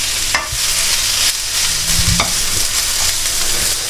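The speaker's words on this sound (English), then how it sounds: "So I'm just going to fry this now." Vegan sausage, pepper and onion frying in a pan, with a constant close sizzle broken by several utensil scrapes and clacks as the food is stirred, with no talk.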